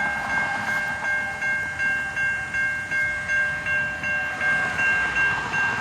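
At a railway crossing beside a stopped Canadian National ethanol freight train, a crossing bell rings in a steady, even rhythm over a low rumble.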